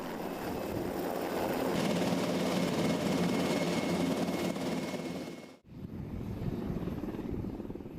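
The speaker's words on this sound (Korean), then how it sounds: "이 훈련에 투입된 헬기가 바로 한국항공우주산업이 개발한 최초의 국산 헬기 수리온." KAI Surion military helicopters flying during an army training exercise, a loud, steady rotor and engine roar that cuts off abruptly, then returns as a duller, more distant drone.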